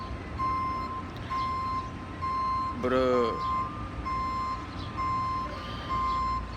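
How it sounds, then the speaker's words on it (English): A tow truck's reversing alarm sounds as a steady series of evenly spaced electronic beeps, continuing under a man's brief speech and low street background noise. "this motherfucker tow truck right here"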